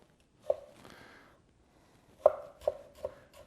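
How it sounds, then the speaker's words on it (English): A kiritsuke knife push-cuts an overripe tomato on a board, making several crisp, close chopping taps. The first tap comes alone, then three strikes follow in quick succession, with quiet gaps between them. "when you can push cut an overripe tomato,"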